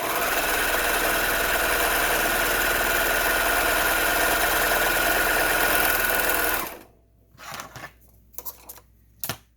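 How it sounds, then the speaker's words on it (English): A serger sewing machine finishes fabric edges for a face mask, running in a steady, fast, close whir for about seven seconds, then stopping abruptly and leaving a few soft handling clicks. "I'm using a serger. Finishes the edges really nicely."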